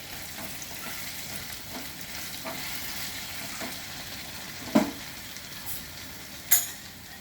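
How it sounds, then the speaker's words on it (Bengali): Cumin and turmeric frying in a pan for a vegetarian banana-flower curry, a faint steady sizzle with two short sharp clinks of a utensil against the pan, no talking. "একটু ভাজা হবে।"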